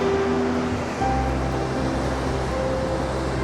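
Sea waves surging into coastal caves on Madeira, a steady heavy wash and rumble of surf with wind buffeting the microphone, no talking.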